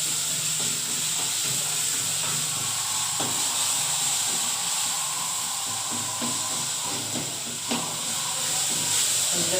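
Onions sautéing in a pan hiss in an even, continuous sizzle, close and unbroken, with faint scattered crackles.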